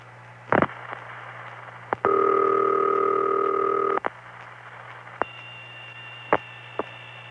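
Telephone trunk tones on a 1970s New York City long-distance line after a 2600 Hz reset: several clicks, a steady two-tone signal held for about two seconds, then a faint lingering tone punctuated by sharp switching clicks.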